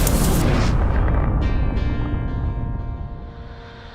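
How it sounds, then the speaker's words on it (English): Loud, dense roar of a SpaceX Falcon 9 first stage touching down, a broad rumbling blast with sonic booms that gradually fades over a few seconds. "Stage 1 is transonic. Landing legs have deployed. And Falcon 9 has landed."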